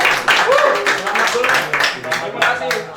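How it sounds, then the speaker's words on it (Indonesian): Audience clapping for a birthday on a music talk show, a brief round of handclaps mixed under lively voices and a speaking host, fairly close and moderately loud. "Tepuk tangan lagi."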